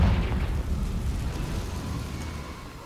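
A Confringo fire spell blast in the Hogwarts Legacy game, a single deep booming explosion that starts loud and rumbles, slowly fading over a few seconds.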